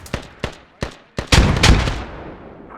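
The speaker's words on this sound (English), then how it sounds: "That's what I wanted to see, a synchronized grenade attack." Synchronized grenade explosions during a night convoy in a squad-based military video game, a rapid series of four sharp blasts followed by two bigger, heavier booms that rumble away, loud and close.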